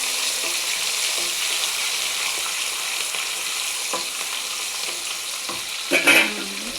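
Green chillies sizzle and crackle steadily in hot oil in a pan, a close, continuous frying hiss with a brief louder burst of spattering near the end.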